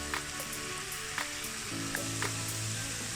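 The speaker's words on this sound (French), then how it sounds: "nous allons tourner et laisser cuire pendant quelques minutes encore" Chicken fettuccine Alfredo sauce sizzling in a pan while being stirred, a close steady frying hiss punctuated by several light scraping and clinking stir strokes, no talk.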